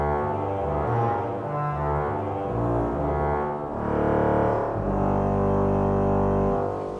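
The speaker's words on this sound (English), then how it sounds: "the glorious Hill trombone from that organ found its way to here to Cheltenham" The Hill trombone reed stop on the pedal division of the William Hill pipe organ at All Saints, Cheltenham sounds deep, buzzing bass notes that shift in pitch and swell loud, resonant and rumbling in a large church space.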